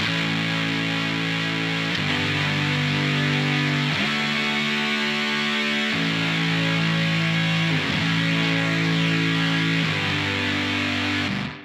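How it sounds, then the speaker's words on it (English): A sustained synthesizer tone with stacked harmonizing oscillators shifts pitch every two seconds, buzzing and slightly distorted, with no talking. "you play a single note and the oscillators in the synthesizer are harmonizing"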